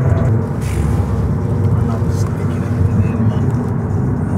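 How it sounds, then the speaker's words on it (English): Miami road traffic makes a loud, continuous roar of car engines and passing vehicles close by, while people talk over it. "Oh, traffic is horrible here."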